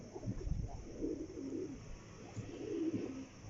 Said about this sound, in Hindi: तो ये परिंदे हैं हमारे, देख लें।